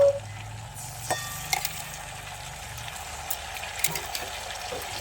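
Onion and spice paste of chilli, cumin, ginger and garlic frying in a pan, a soft continuous sizzle with a few stirring clinks, fairly quiet throughout.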